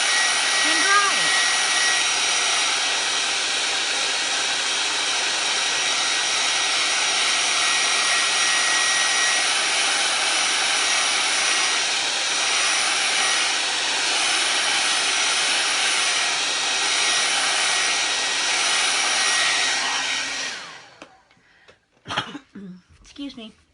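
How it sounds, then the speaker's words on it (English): A handheld hair dryer blows steadily on fresh paint on a red, white and blue Fourth of July decoration, a loud, constant close-up whoosh for about twenty seconds before it clicks off and handling noises follow. "or you can take a hair dryer, hang on, I'm gonna get noisy"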